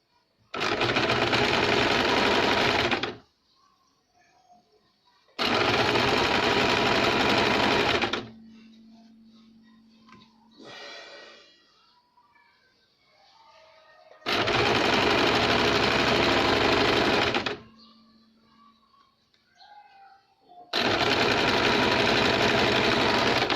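A sewing machine runs a straight stitch along a seam of a double katori blouse in four loud, steady runs of a few seconds each, separated by quiet pauses with faint handling sounds.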